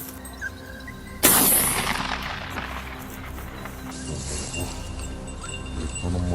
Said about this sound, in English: I fired quickly, but the bullet veered off course and the target vanished into the thick trees.